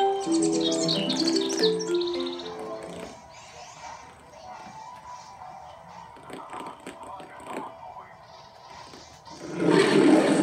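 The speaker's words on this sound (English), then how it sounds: "Oh, look at the bird table. There's a little bird eating the breadcrumbs we left out." A small bird eating breadcrumbs at a garden bird table gives a quick string of bright, high chirps in the first few seconds. Quieter mixed sounds follow, then a louder burst near the end.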